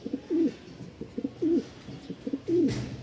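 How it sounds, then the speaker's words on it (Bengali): A pair of pigeons coos nearby, three distinct rolling coos spaced about a second apart with softer throaty notes between them, loud and clear with no talking. "এখানে এক জোড়া হাতবাজির কবুতর আছে"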